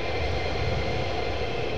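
A military jet at RAF Lakenheath roars loudly and steadily in a dense, broadband engine rumble, with no voices over it.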